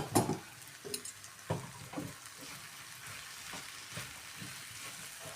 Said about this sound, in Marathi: शेंगदाण्याचा कूट टाकून मिक्स करून घेतलेला आहे.